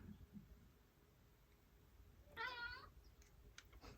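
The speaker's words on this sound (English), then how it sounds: "Is that your meow?" A cat gives a single clear meow indoors, fairly close and moderately loud, against a quiet room with faint background noise.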